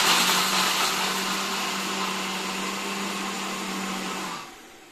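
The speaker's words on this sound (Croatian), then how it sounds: "I ovaj mikser doista miksa." An electric kitchen mixer whirs steadily as it beats batter, a loud, close, continuous motor whine that holds for several seconds and then winds down as it is switched off.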